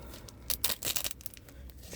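A tightly sealed foil comic trading card pack is torn open by hand, giving close, crisp ripping and crinkling in a few short bursts over quiet background.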